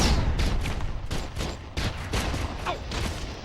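Turret gunfire from the game Red Faction Guerrilla rattles in rapid bursts, loud and close, with sharp repeated reports and short gaps between volleys, no speech over it.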